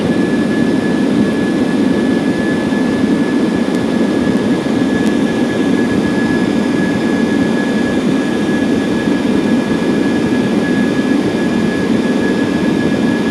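The jet engines of a Ryanair Boeing 737-800 roar steadily and loudly in flight, a constant broad rushing drone with a thin high whine running through it, with no talking.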